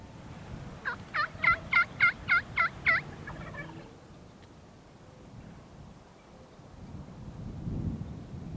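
A rapid burst of gobbles from a wild turkey tom among hens and jakes near a corn feeder in South Texas, about seven quick pulses, rings out clearly at moderate distance, then fades into quiet outdoor ambience with a low rumble.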